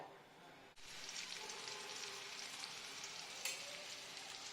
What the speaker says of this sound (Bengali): এবার গ্যাসে কড়াই বসিয়ে আমি মাখন গরম হতে দিয়েছি প্রথমে ওর মধ্যে আমি দেব রসুন আর আদা